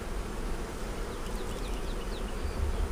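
Honeybees in an opened hive hum in a dense, steady buzz, with a few individual bees flying close past.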